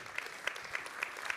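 Applause from a conference audience thanking a speaker: short, fairly faint pattering with a few sharper claps standing out, heard from some distance with no voices over it.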